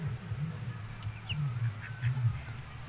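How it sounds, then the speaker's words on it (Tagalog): Ducks quack at a rural countryside home, a run of low, nasal calls close by that come in short bursts and overlap with no pause across the stretch. "Ikaw, mga pato?"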